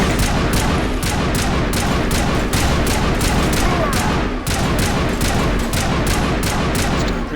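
Dense, rapid bursts of gunfire in the video game Mass Effect, loud and continuous with sharp repeated shots throughout.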